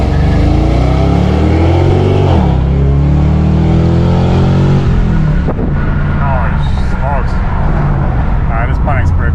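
Pontiac G8 with a six-speed automatic revving hard at high RPM, a loud sustained engine roar with rising harmonic sweeps, mixed with talking voices throughout.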